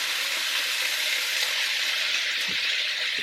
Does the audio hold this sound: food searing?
yes